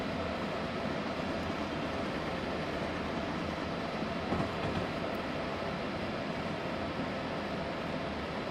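An ACS-64 electric locomotive in Train Simulator 2016 rolls southbound toward New York, giving a steady, continuous rumble and hiss of motion at an even level throughout, with no voices.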